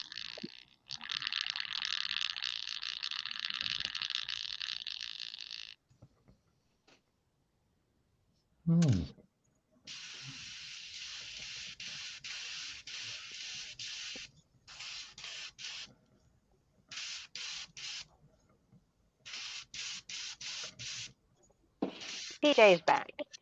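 Hobby airbrush spraying in steady hissing bursts, a long burst followed by several shorter ones with brief pauses, close and moderately loud, with a few clicks and handling noises between sprays.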